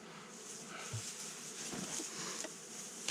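Bees buzz softly around a hive fitted with a bee escape, a faint continuous hum with a few light taps and rustles.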